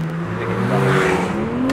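Porsche 911 Turbo S Exclusive Series accelerating hard in second gear, its engine note climbing steadily in pitch as a loud, close, rising roar.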